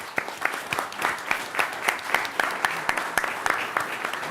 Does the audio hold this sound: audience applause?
yes